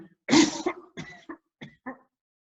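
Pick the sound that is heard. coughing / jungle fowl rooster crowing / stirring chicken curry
coughing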